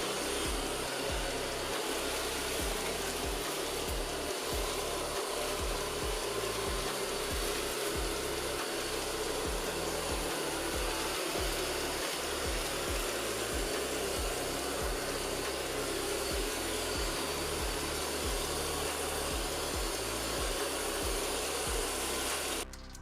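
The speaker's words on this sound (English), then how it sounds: "Now let's start cleaning. By the way, the Extravis V5 robot vacuum cleaner has a maximum suction power of" Extravis V5 robot vacuum cleaner with 8500 Pa suction running across a floor, giving a steady, continuous motor whir with brushing and rubbing texture underneath, constant in level throughout with no voices.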